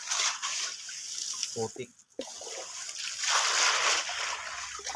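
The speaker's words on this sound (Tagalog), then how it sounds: "Kailangan natin hugasan yung bato." Rocks from a small gold-mining site being washed in water, with continuous splashing and sloshing broken by a brief pause, and someone speaking in the middle.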